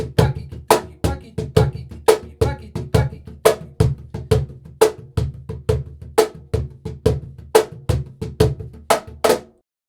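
Hand drum groove mixing deep low strokes, sharp high slaps and soft ghost notes in a steady repeating pattern, close and fairly loud, played alone with no talking.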